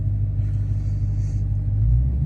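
Steady, loud low-pitched engine rumble from a Dodge Charger Daytona Scat Pack while driving, heard from inside the car, with a slight swell in the last half second and no talking.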